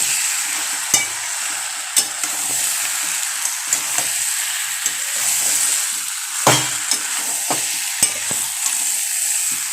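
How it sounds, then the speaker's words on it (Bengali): Potatoes and pointed gourd with prawns are stir-fried with spices, a steady close sizzle punctuated by regular spatula knocks against the pan roughly once a second, with no voices. "এই মশলাটা দিয়ে এগুলো কিন্তু ভালো করে কষিয়ে নেবো সুন্দর করে"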